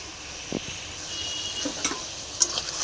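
Spice paste of ginger, cumin and tomato frying in hot mustard oil in a kadai for a cauliflower and potato curry, a steady soft sizzle with a few light scrapes of stirring, no talk.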